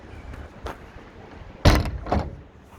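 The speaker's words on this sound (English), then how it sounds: "Close the door." A Blue Bird school bus door swinging shut during a pre-trip inspection, with a faint mechanical movement followed by a firm thud and a second softer knock, close by and with no talk.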